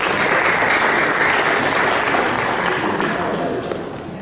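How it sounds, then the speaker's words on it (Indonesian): Sustained audience applause for the Gelora Bahana Patria choir at an Indonesian peaceful-election civic event, a dense steady clatter of many hands that holds loud throughout, then tapers slightly at the end. "Beri tepuk tangan sekali lagi buat paduan suara Gelora Bahana Patria."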